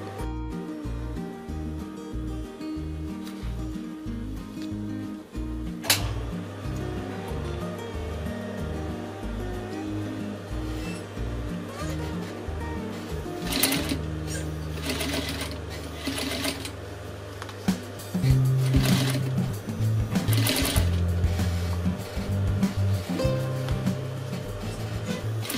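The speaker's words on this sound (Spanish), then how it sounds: "Voy a terminar de coserle y luego vemos cómo ha quedado." Sewing machine stitching the hem of a pair of jeans, a continuous rapid mechanical chatter running throughout, with short pauses and changes in speed and a denser, louder stretch in the second half.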